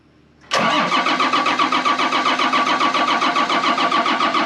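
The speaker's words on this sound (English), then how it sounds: "it looks like engine cranks but will not start" A John Deere 4830 sprayer engine cranks but will not start: the starter kicks in abruptly and churns in a loud, steady rhythmic chug without catching.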